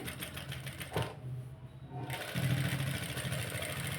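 Sewing machine stitching cut-work blouse fabric, a fast rattling rhythmic whir that stops for about a second, then starts again, close and steady.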